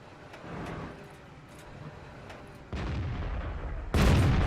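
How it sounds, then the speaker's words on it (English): Cannon fire from an AMX CDC tank in a tank video game: two heavy booming shots a little over a second apart, the second louder, rising from a quiet rumbling background. "Our first shot goes right into his gun mantlet."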